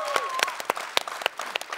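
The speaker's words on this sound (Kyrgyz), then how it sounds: "Кол чабуулар жаңырсын Гүлжигит Калыков" A studio audience on a Kyrgyz comedy show applauds guest Gulzhigit Kalykov, with a short burst of lively clapping that has a few distinct loud claps, close and steady.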